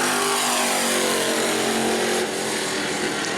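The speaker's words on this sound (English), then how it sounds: "You hear the tires screeching as he goes through the corners there" Super stock race car at New Smyrna qualifying, engine roaring loudly through the corners with tire screech blended into the steady, continuous noise.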